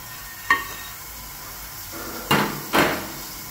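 Fettuccine is stirred in a pot of boiling water, with a low bubbling hiss underneath and three sharp knocks of a utensil against the pot, one early and two close together near the end.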